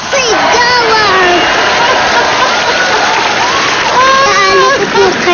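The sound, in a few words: applause with shouting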